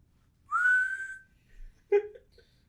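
A single rising human whistle imitating the horse call from Shadow of the Colossus, loud and close, followed by a brief short second note and faint background noise.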